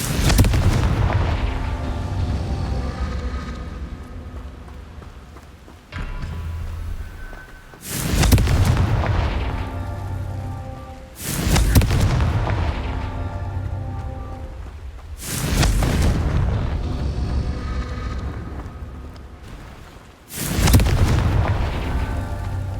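Confringo blasting spells in the Hogwarts Legacy video game erupt in a series of five heavy, booming explosions spaced a few seconds apart, each a loud close blast that rolls off into a rumbling decay.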